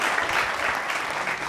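Audience applause at a live Hindi kavi sammelan poetry gathering, a steady, dense clapping from a crowd sustained evenly throughout without a break, fairly loud and close.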